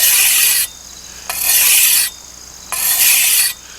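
A file rasps along the bevel of a hand weeding tool in three long, loud, even strokes with short pauses between, close up and with no talking.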